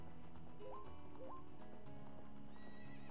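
Epona, the horse in the video game Zelda: Ocarina of Time, gallops with steady rhythmic clip-clop hoofbeats and two rising whinnies, close and clear against a game backdrop.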